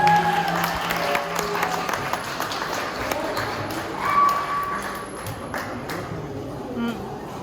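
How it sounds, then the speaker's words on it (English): An outdoor audience at a Tibetan community camping gathering applauds to welcome performers, scattered clapping and crowd noise with voices talking over it. "Round of applause, please."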